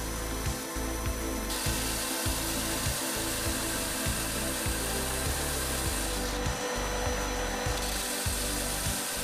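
A belt sander grinds steadily against narrow wooden segments, a loud continuous abrasive drone broken by brief dips and changes in pitch as the piece shifts.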